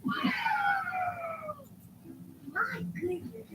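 A cat gives a long, drawn-out meow nearby, sliding downward in pitch over about a second and a half. A shorter, rougher meow follows, with faint indoor background noise.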